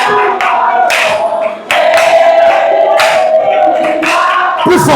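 Congregation at a church seminary closing service loudly shouting and acclaiming the Lord, massed voices in repeated surging bursts with sustained tones beneath, close and intense throughout.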